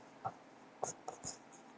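A pen or marker writes an adjusting entry during a Class 12 accountancy lesson, giving a few short, scratchy strokes in irregular bursts that sound close and quiet, with no talking.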